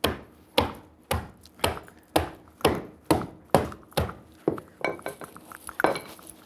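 Ice cubes being pounded and crushed inside a canvas Lewis bag in a kitchen, a dozen sharp, evenly spaced whacks with a loud impact and brief clinking tail, no talking.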